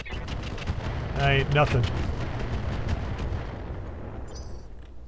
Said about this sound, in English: Might as well just lob some missiles.